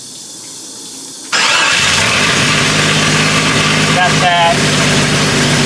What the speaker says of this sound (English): I'm just going to crank it and make sure the tack and lights and stuff work